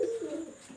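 A pair of golden pigeons gives a brief, low, burbling coo at close range, softening toward the end, with no voices over it.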